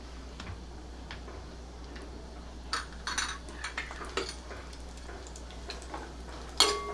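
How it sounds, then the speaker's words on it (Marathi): Chopped dry fruits fry in melted ghee with a faint, low sizzle, and a spoon clinks and scrapes against the pan several times, one louder knock near the end. "छान आपलं तूप वितळलेलं आहे सुरुवातीला मी जरा ड्रायफ्रूट्स घालते जे मी चिरून घेतले होते आत्ता"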